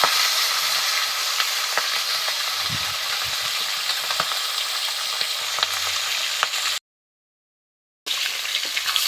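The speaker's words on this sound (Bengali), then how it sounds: "প্রথমে আমি মাছের মাথা দুটো দিয়ে দেবো দিয়ে ভালো করে ভেজে নেব" Rohu fish heads fry in hot oil in a wok with a steady, close, crackling sizzle that runs continuously, broken by a short silent gap near the end.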